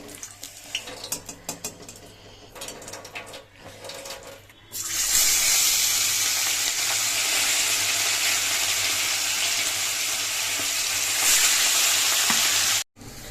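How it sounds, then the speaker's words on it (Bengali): Potol fish drops into hot fish oil in a pan: clattering and stirring first, then a loud, sustained, close sizzle that holds steady before cutting off abruptly. "মাছটা ভাজা হবে"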